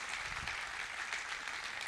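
Congregation applauding during a Spanish-language evangelical sermon, a continuous wash of many hands clapping, fairly faint and steady from start to finish.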